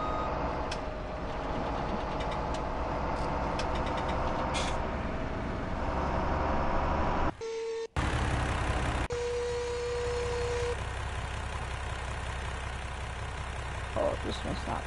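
A tractor engine in Farming Simulator 17 runs steadily under game sounds, with repeated reversing beeps and a brief dropout midway, while a voice talks at times.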